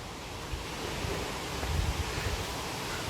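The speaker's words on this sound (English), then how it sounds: "We can hear the sound of waterfalls" A steady, broad rush of falling water from Vibhuti Falls near Gokarna hums in the distance, constant and even with no other sounds.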